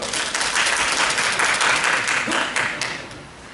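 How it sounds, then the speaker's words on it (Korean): An audience at a press conference outside Gumi City Hall protesting a presidential award to Asahi non-regular workers breaks into loud, dense applause to welcome a speaker, sustained steadily before tapering off at the end. "우리 박수로 맞이하겠습니다."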